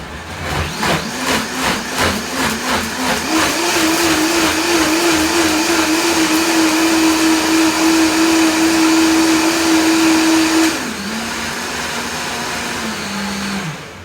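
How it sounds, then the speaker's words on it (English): A blender purees chili salsa, running loud and steady, starting with a pulsing low whir, then rising to a high, even drone before dropping to a lower speed near the end. "Now when you start your blender, make sure the top is on."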